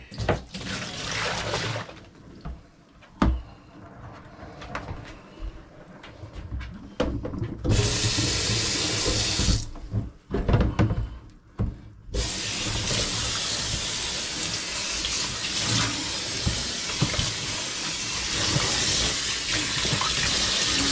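Water runs steadily from a tap into a sink, with a continuous broadband rush interrupted by short pauses, flowing alone with no talk over it.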